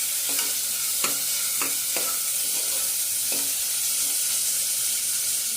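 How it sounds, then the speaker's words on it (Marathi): Sliced onions fry in oil for chicken pulao, giving a constant close sizzle broken by several sharp scrapes of a spoon stirring the pan. "तेल आहे ना थोडं चांगलं टाकलेलं आहे त्यामुळे कांदा आपला पटकन लालसर होईल"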